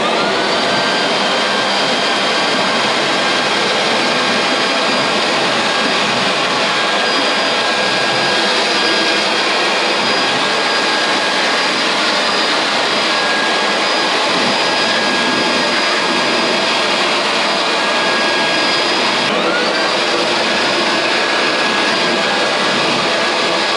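An air blower runs continuously to clear dust from a BLACK+DECKER 10,000 BTU portable air conditioner, a loud, steady high-pitched whooshing roar close to the microphone, with a brief shift in pitch near the end.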